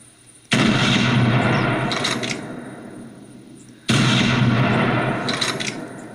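A rifle shot in the hunting video game The Hunter, a loud, sudden blast followed by a long rolling echo, repeated once about three seconds later, with no talk.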